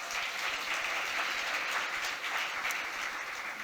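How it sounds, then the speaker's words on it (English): At a State of the City address in New Rochelle, an audience claps steadily, a dense, even wash of applause from a large room that continues without pause for a few seconds. "So could we give them a round of applause?"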